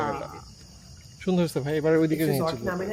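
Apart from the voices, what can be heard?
crickets chirping in nature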